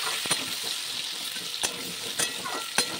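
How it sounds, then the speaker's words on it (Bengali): Potatoes fry in a pan with a continuous close sizzle, broken by a few sharp stirring scrapes and clinks. No one speaks. "আলু প্রায় লাল লাল করে ভাজা হয়ে গেছে"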